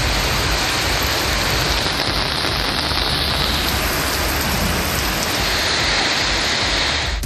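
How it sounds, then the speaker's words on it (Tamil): Heavy monsoon rain pours down steadily across Ariyalur district, a dense, loud, unbroken roar of downpour filling the whole stretch with no voices. "அரியலூர் மாவட்டத்தின் பல்வேறு இடங்களில் 2வது நாளாக கனமழை கொட்டி தீர்த்தது"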